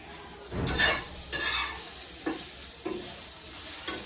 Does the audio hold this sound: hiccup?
no